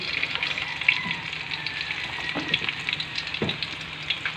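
Garlic fries in a pan for a home-cooked Filipino dish, giving a steady close sizzle throughout with a few soft stirring scrapes and knocks.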